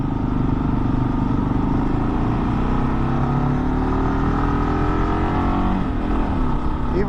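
A 2023 Kawasaki KLR650 on off-road tires rides steadily, its single-cylinder engine droning loud and close with a constant rumble and slight pitch shifts under wind noise.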